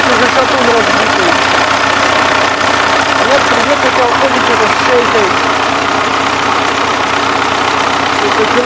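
A DT-75 tractor engine runs with a knock in the motor, suspected to come from a worn connecting rod or crankshaft journal. It makes a loud, continuous idling rumble with a steady, repetitive knocking throughout.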